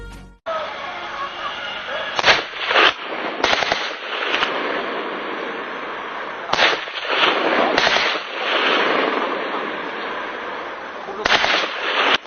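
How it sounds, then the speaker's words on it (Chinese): Real 1993 footage of two armed police snipers firing sniper rifles and rifles in Hainan, with sharp gunshots cracking out singly and in pairs over steady, loud background noise, while a voice narrates throughout. "海南武警总队的2名狙击手正在射击东方帮帮主刘进荣的真实影像"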